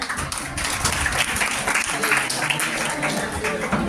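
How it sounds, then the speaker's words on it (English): An audience at a school Teachers Day celebration claps for a student about to give a speech, dense continuous applause with a crowd murmur and some voice-like sound mixed in, fairly loud and close. "Please give a big round of applause to her."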